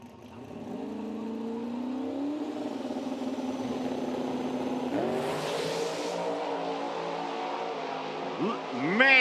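A drag racing car launches and accelerates down the strip at a street-car drag event, a strong rising engine roar building steadily from mid-distance and swelling louder near the end, with announcer-style voices faintly underneath.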